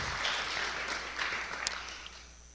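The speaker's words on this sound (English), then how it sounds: "I'd like to hear a round of applause for our candidates." Audience at a village council candidate forum applauds the candidates, a steady wash of clapping that swells and fades across the short stretch, fairly quiet and diffuse like a hall heard from a distance.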